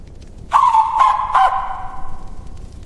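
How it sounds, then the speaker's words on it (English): A rooster crows once nearby, a loud drawn-out call in three pulsing bursts that trails off against a quiet background. "And immediately, the rooster crowed."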